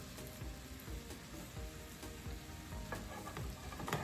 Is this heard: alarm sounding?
no